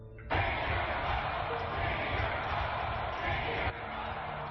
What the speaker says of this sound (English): The crowd chanted, "Change your vote," as Michael Bennet took the stage to accept the nomination.